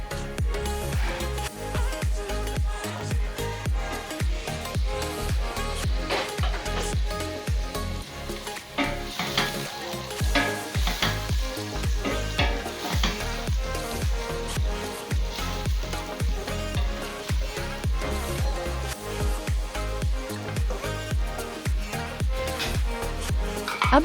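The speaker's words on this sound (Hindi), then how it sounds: "इसको 5 मिनट तक फ्राई करें।" Chana salan masala sizzles and fries in a pan while being stirred, a dense steady crackle close up with repeated scraping stir sounds throughout and no speech.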